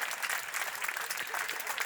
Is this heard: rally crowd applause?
yes